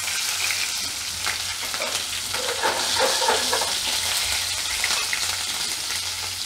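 Green chillies frying in hot oil with cumin seeds and asafoetida, a steady close sizzle and crackle with some stirring, for a Gujarati green bean curry.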